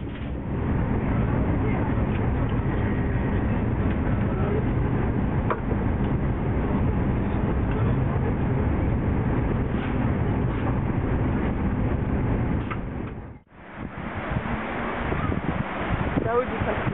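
Steady rumble of a TGV high-speed train running through the French countryside, heard from inside the carriage as continuous loud rolling noise with a brief dip near the end.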